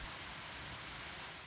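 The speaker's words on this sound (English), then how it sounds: "The next day brought even heavier rain. The rain just would not stop." Heavy rain pours down in a steady, unbroken hiss that fills the whole moment evenly, with no voices over it.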